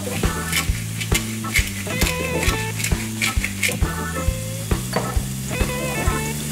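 Garlic and onions saute in a hot pan with a continuous close sizzle, broken by repeated stirring clinks and scrapes of a utensil against the pan, with no talking.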